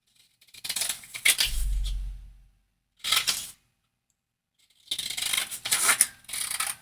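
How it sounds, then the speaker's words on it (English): Scissors cut out a paper craft tag close up in several separate bursts of snipping and rustling, with a soft low thump early on and quiet pauses between cuts. "So this tag I'm going to just cut out."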